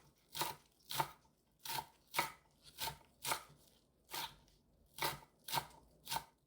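Knife chopping green onion tops on a cutting board, a dozen crisp separate taps in an uneven rhythm, close and clear with no talk.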